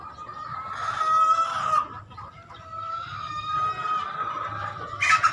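An Amazing Gray street-comb gamefowl rooster at a breeding area clucks and crows loudly and close, with drawn-out calls broken by short pauses and a sharper burst at the end.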